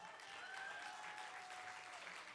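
A poetry slam audience claps for a poet, a faint, even wash of many hands, with a thin steady whine running through it.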